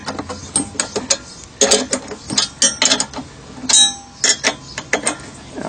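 Bolts being tightened on a chainsaw mill: a close, steady run of ratchet wrench clicks in quick bursts with brief pauses, metallic and distinct, with no talking.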